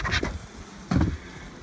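Honey bees buzz during a hive split, with two short, close bursts of buzzing as bees fly past, separated by a quieter hum.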